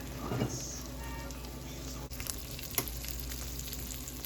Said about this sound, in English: Add some more of that broth.